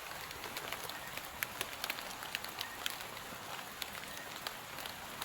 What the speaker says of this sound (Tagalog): Kasi malakas yung ulan.